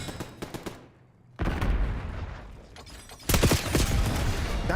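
Call of Duty gunfire, sharp bursts of rapid shots at the start, a short lull, then heavier loud volleys and impacts returning in the final second.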